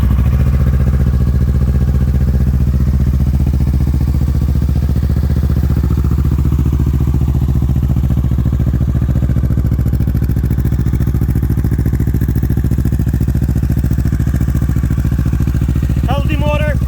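A 2023 Kawasaki Ninja 650 motorcycle engine running at a steady idle, a close, even mechanical hum with a faint clatter and no change in revs.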